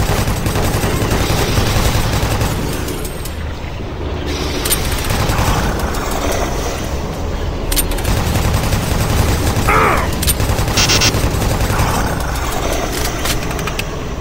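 Minigun-wielding enemies firing in Doom 3: a continuous, dense rattle of rapid gunfire over a rumbling, engine-like background, loud and unbroken throughout.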